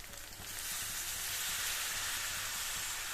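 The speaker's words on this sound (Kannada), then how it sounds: "ಈರುಳ್ಳಿ ಕೂಡ ಚೆನ್ನಾಗಿ ಫ್ರೈ ಮಾಡಬೇಕು." Onions fry in a pan for a chicken curry with fenugreek leaves, giving a steady, close sizzle that holds dense and even for the whole stretch with no talking.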